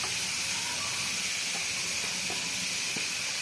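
Grated onion and curry leaves frying in oil for a fish pulusu, a loud, continuous, even hiss close up with a few faint knocks.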